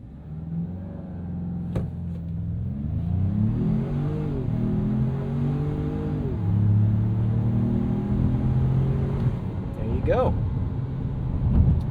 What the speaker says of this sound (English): Let's get this off the line and see how fast we can get to 60.